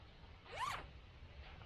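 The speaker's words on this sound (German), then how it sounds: "Es ist ein Zwei-Wege-Reißverschluss, sprich man kann nicht nur von unten nach oben öffnen" A two-way zipper on the armpit vent of a Helikon-Tex Woodsman anorak is pulled once in a quick, close rising zip, quiet and alone.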